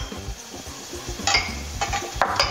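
Ginger sautés in a pan for a prawn dish, with a soft steady sizzle under repeated scraping and stirring clatters of a utensil against the pan, close and fairly quiet.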